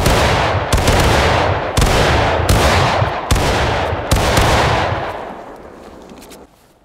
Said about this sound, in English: Firing by file from the right. Fire!